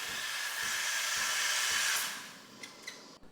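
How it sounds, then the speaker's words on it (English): A Breville Barista Express espresso machine's steam wand purging into a cloth, giving a loud, steady hiss for about two seconds that fades out and ends in a few small clicks. "Using my cloth, I'm just going to give my wand a quick purge."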